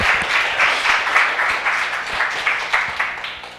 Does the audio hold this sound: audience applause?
yes